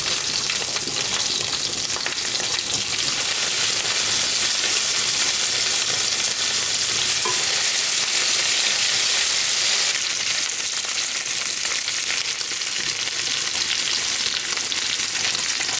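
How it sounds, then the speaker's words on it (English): Bacon strips fry in a pan with a loud, continuous crackling sizzle that fills the whole stretch, close up, with no voices. "now we gotta go back and flip our bacon"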